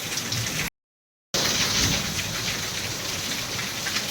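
Heavy monsoon rain pours in a dense, steady hiss, loud and close, broken by a brief dropout before resuming just as strong.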